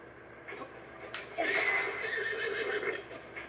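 A video game horse whinnies loudly in a drawn-out, wavering neigh, with a few faint clip-clop hoof sounds around it.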